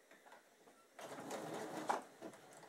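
Sewing machine running a wide zigzag stitch to tack elastic on a cloth doll's flutter-sleeve romper, a quiet whirring burst starting after a second of near silence, faint and close with no talk.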